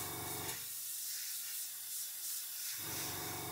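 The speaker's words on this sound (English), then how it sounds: "I'll just do a little test spray first" A brief test burst from a paint spray of thin mix meant for a Revell 1/32 Hurricane Mk.IIb model kit: a soft, steady hiss lasting about two seconds.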